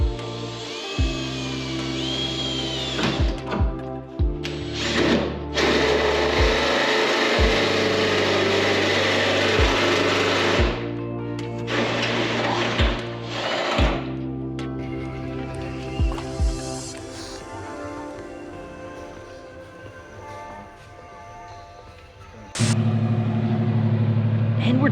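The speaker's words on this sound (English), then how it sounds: "he's trusting me to drill holes in the hoods of all 4 cars and do the hood pins" A power drill bores holes in Hyundai Elantra N car hoods for hood pins, giving repeated bursts of high whirring separated by short pauses and clunks, fairly loud and close, with occasional voices.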